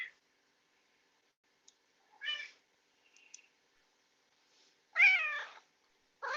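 A house cat, a mouser, meows several times with pauses between calls, one short and one longer, close to the microphone in an otherwise quiet room.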